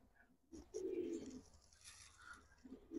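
A young adult female BRPL club racer pigeon gives a short burst of low cooing, close but quiet, followed by softer murmurs in a calm setting.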